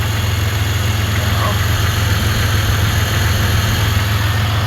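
A Centurion boat engine idles just after start-up, holding a steady low hum with a continuous, even drone and no changes in pace, close and fairly loud.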